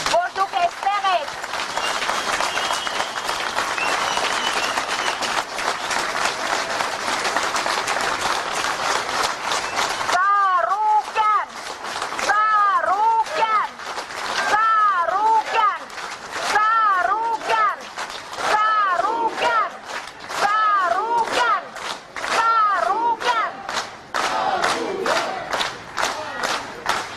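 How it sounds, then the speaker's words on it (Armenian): Large crowd of supporters outside a building where Tsarukyan is, applauding and cheering loudly, dense clapping at first, then rhythmic shouting and chanting that keeps the energy high throughout. "Ես ուզում եմ այս պահին բոլորս մի հատ շատ բարձր ծափահարենք"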